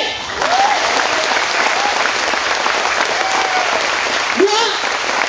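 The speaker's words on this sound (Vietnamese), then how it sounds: "Vỗ tay." An indoor audience at a Vietnamese finance talk claps steadily, with loud, dense applause continuing throughout and a voice briefly heard over it.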